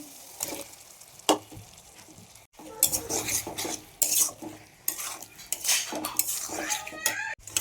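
Spice paste and meat being sautéed in a pan, with repeated metal spatula scrapes and clanks over a continuous sizzle, close and busy, no speech.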